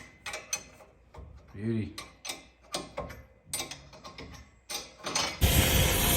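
A ratchet tightens bolts on a vehicle after new brake pads and a rotor were fitted. It gives a quick, close series of clicking and metallic clinking sounds, mixed with a brief spoken word and some handling noise.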